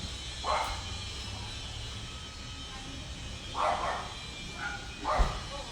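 Several dogs bark in the distance in a few short bursts separated by quiet stretches. Faint background hum fills the gaps, and no one speaks.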